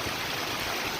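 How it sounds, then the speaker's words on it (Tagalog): Water pouring down from a residential swimming pool into the area below, near the JBR marina in Dubai, makes a steady, close rushing wash with no break. "Pero ito, ang umaagos na tubig, yan ay ano, swimming pool."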